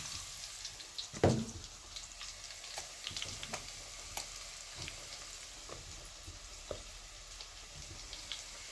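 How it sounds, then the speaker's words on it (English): Coated oxtail hits hot oil with a sharp burst of sizzling, then settles into a steady, fairly quiet frying crackle dotted with small pops and a few faint kitchen clinks, in a home Jamaican kitchen. "So I'm going to add it to the oil like this."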